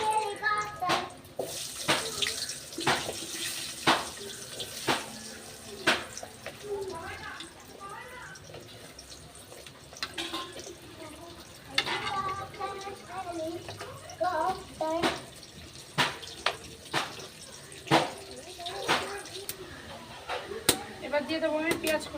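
Potatoes frying in hot oil tempered with bay leaf and whole cumin in a home kitchen, a steady close sizzle broken by sharp clatters of stirring, with someone talking over it.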